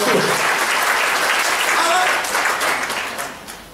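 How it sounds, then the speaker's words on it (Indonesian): A church congregation at a Sunday service applauds loudly and steadily with cheering voices mixed in, the clapping gradually fading near the end. "Berikan tepuk tangan yang meriah buat Tuhan."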